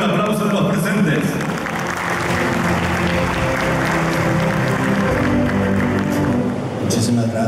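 Audience applause at the official opening of the AgroShow Copronar 2023 agricultural show, steady sustained clapping from a crowd filling the whole stretch, with voices mixed in.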